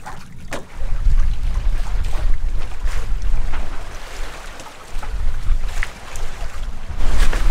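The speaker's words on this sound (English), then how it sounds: "Got the wind back, we're sailing again." Steady wind roaring across the microphone while a Corsair 880 trimaran sails, with water rushing along the hull; loud, gusting and continuous, no talking.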